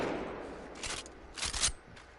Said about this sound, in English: So this is the normal reload.